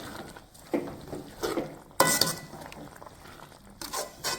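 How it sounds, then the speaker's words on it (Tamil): Masala for a spinach and keema gravy is stirred in a pan, giving intermittent scraping and clinking of a utensil against metal. A soft sizzle runs underneath, with a few louder scrapes close by and no talk. "இந்த மசாலாவில் ஒன்று சேர்கிற அளவுக்கு கிண்டி விட்டுறலாம்"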